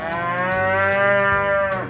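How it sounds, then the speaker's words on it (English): A single long, loud cow moo, close by on a ranch, holding a steady lowing tone for about two seconds before trailing off. "You can hear those cows talking because they know something's going on out here"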